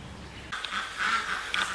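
Free-range ducks, with chickens among them, quack from close by in a short burst of overlapping calls that starts abruptly and carries on loudly to the end.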